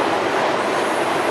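CPTM PR22 locomotives 6211 and 6212 maneuvering at Lapa give a steady, close rolling rumble with faint wheel clatter that stays even throughout, with no voices.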